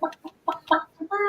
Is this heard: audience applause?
no